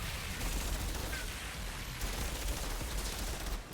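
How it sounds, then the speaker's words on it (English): SMG fire in a video game: a dense, continuous crackle of rapid shots with heavy low thumps, loud and sustained across the short clip. "This SMG is nice."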